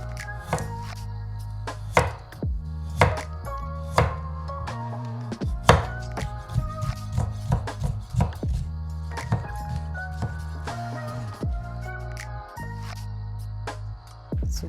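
A knife chops a carrot on a board for a kimchi pancake, striking in loud, close thunks that come in rapid irregular bursts with brief pauses.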